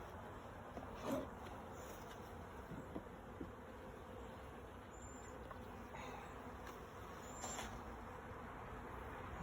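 Honey bees buzz around a young start-up colony during a hive inspection: a steady, close, continuous hum with occasional higher whines of single bees passing.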